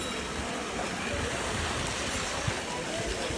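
Spring water at a Narasimha Swamy cave temple in Karnataka flows continuously as a steady, close, full-bodied rush with a single faint knock partway through.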